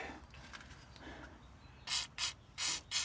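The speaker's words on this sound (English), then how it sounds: "I'm just gonna give these a quick shot. WD-40." Four short hissing bursts of WD-40 lubricant sprayed onto Crown Vic front shock parts come near the end, after a stretch of quiet handling noise.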